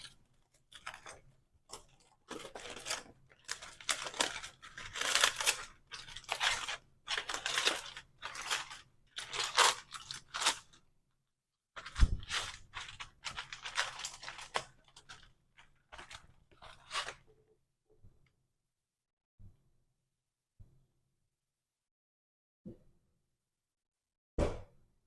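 Foil being unwrapped from barbecue-sauced spare ribs, a burst of crinkling, crackling rustles in irregular bursts, close and fairly loud, thinning to scattered faint rustles and a few soft knocks.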